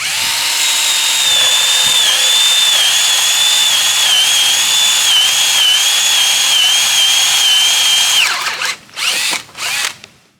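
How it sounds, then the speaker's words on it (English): A power drill whines steadily and loudly for several seconds as it bores through wood, then stops and revs in a few short bursts. "So I'm just going to grab the thing and drill it."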